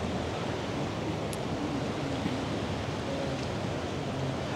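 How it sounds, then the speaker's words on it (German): Small waves lap in shallow water at low tide by a harbour near a seamen's mission, a continuous soft rushing wash with slight swells and no talk. "Hier an der Seemannsmission, immer wenn das Wasser sehr flach ist, dann bilden sich hier so Wellen"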